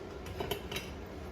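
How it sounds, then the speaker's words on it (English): Spoon picked up with a few light metallic clinks against dishes in a kitchen, quiet and close, three quick taps within about a second. "Let me get a spoon."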